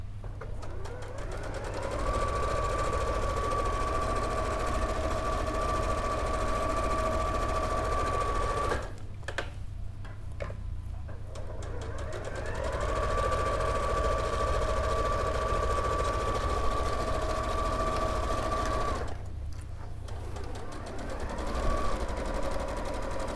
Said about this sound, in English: And then we'll sew down.